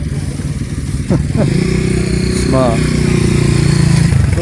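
Motorcycles at a Honda Cub rally in Derbyshire: small single-cylinder engines idle and rev nearby in a steady putter that swells louder partway through, while someone speaks briefly over the engine noise.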